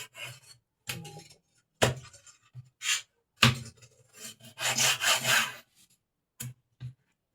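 Knife slicing pork for adobo on a board, a series of short scraping, rasping cuts in an uneven rhythm, close and fairly quiet, with a longer rubbing stretch midway.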